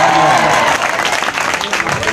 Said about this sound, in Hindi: जोरदार तालियों से इस्तकबाल होना चाहिए।